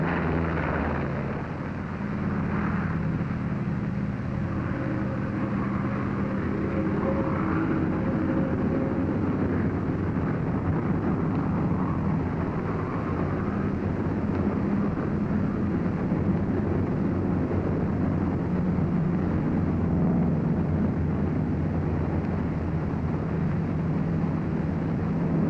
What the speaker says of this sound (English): Throttle forward with a steady positive motion. You're flying your 47 down the runway.